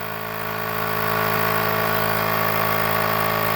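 A portable battery-powered air compressor from AliExpress runs while building pressure, giving a steady, loud, droning motor hum with a buzzing edge. It holds an even level for the whole stretch with no talk.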